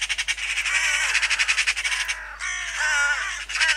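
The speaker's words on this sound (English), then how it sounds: "The noise of the magpies and crows around me becomes almost deafening at some points." Magpies and crows squawking loudly and repeatedly near the listener in a UK oat field in November, harsh rapid caws and chattering calls overlapping almost without pause.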